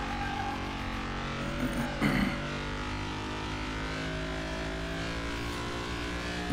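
A Land Rover 4x4 in the Car Mechanic Simulator 2021 video game, its engine holding a steady hum while driving and cornering, with a brief louder burst near the two-second mark, no voices.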